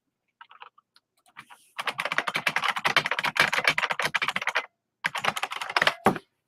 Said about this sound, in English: My Mac keyboard, or my keyboard that I'm typing on right now,